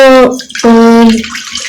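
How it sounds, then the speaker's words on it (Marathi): Two glasses of water poured into a kadhai while cooking Kolhapuri misal, heard as two close, loud splashing pours, each with a ringing, gurgling tone, separated by a brief pause. "दोन ग्लास पाणी घालते"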